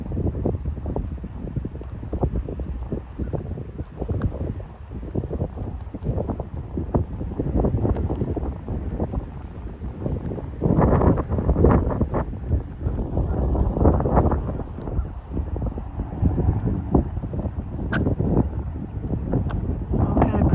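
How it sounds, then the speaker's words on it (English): Strong wind buffets the microphone in a continuous low rumble that swells and gusts among live oaks at Lake Belton, with no voices standing out. "And it's windy."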